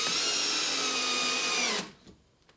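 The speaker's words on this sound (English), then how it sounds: "let's just try putting in a regular screw with a drill" A power drill drives a regular screw in one continuous high whine that runs for almost two seconds, then cuts off, leaving a few faint clicks and quiet room sound.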